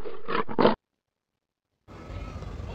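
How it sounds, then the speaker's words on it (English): A lion roars in a burst of rough, growling noise that stops abruptly, then a broad, steady rumbling roar follows after a short silence. "L for lion."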